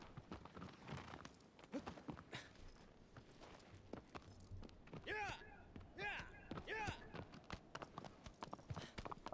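A horse's hooves clip-clop down stone stairs in the game Shadow of the Colossus, a quick irregular run of hard knocks with a few sharper bright strikes midway, while a voice talks over the steps.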